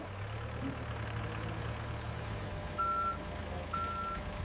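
A delivery truck at a coconut processing factory reverses with its engine rumbling, and its backup alarm gives two clear, evenly spaced electronic beeps near the end.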